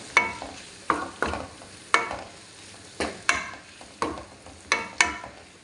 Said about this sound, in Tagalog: ilagay ko na nga po yung mushroom halo-halo lang ulit